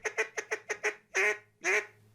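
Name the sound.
handmade Cajun duck call imitating duck quacks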